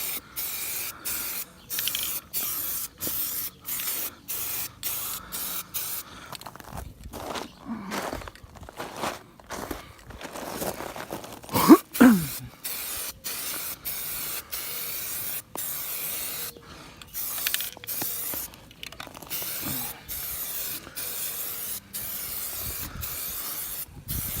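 A chrome Ram 1500 grille is spray painted with heavier coats: repeated short hissing aerosol bursts in a steady stop-start rhythm, near and fairly loud, with a few shuffling steps between passes.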